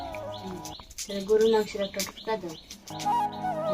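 A pet common myna gives a series of close chirps, whistles and chattering calls, mixed with a person talking nearby.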